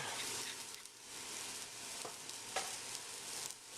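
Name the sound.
onions and garlic sauteing in a pan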